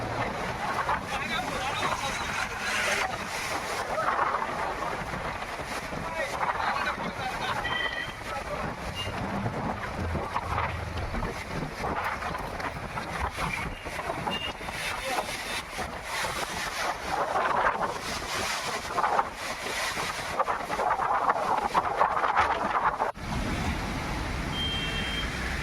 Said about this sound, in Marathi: पहा एवढा जोरदार वारा आहे